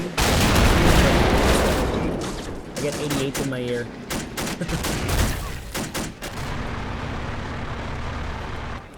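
Rapid bursts of video game gunfire from Men of War: Assault Squad 2 crackle and pop throughout, with someone talking over the shooting and a tonal blip midway.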